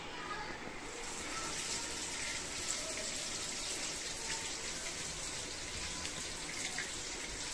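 Water is poured into a kadhai to boil gonda, making a steady, fairly faint gush that runs without a break.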